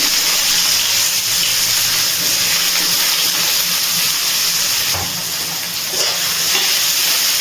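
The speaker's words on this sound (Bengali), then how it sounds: "গ্যাসের ফ্লেমটা হাইতে রেখে পেঁয়াজটা খুব ভালো করে ভেজে নিচ্ছি।" Chopped onion frying in hot oil over a high gas flame, a steady loud sizzle and hiss that runs unbroken throughout with no voices.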